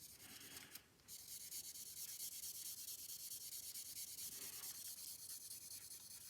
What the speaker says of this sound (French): Alors moi je ponce dans tous les sens, une fois en rond, une fois en long, une fois en large, une fois en travers